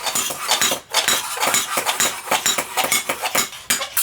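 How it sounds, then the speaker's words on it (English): A sharp iron tong scraping a hand-shaped metal product to brighten it, a rapid run of close, bright metallic scrapes and clinks in an irregular rhythm. "one sharp iron tong is used to brighten the product by scraping it"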